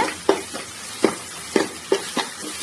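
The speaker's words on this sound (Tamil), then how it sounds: "ஆட் பண்ணிட்டு நல்லா வதக்கி விட்டுட்டு இருக்கேன்." Tomatoes and masala sauté in a pan with a soft background sizzle, punctuated by a handful of sharp spatula scrapes at uneven intervals, close and fairly loud, with no voices.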